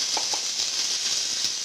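Chopped onions frying in vegetable oil and butter give a steady, close sizzle with faint crackle and a few soft pops, and no voices over it.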